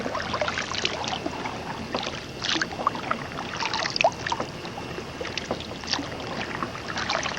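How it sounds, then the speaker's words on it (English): A kayak moves on the water, paddle strokes splashing and dripping in an irregular rhythm close by, with small gurgles and trickles between strokes over a quiet background. "Fortunately, this kayak is a lot more stable than that stupid canoe that we had at Micanopy."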